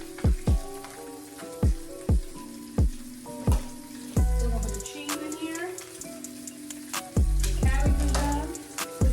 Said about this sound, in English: Over here frying fish.